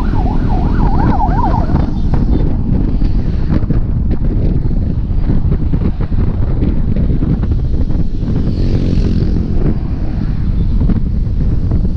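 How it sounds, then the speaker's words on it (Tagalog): Loud, steady wind buffeting the microphone on a trail ride in Gapan, Nueva Ecija, with a roaring low rumble, and a faint siren-like wail rising and falling near the start. "Lakas ng hangin!"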